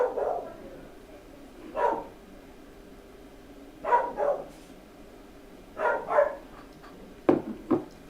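Dogs bark in short, repeated bursts, about five or six separate barks and yips spaced a second or two apart, at moderate distance with a quiet gap between each outburst.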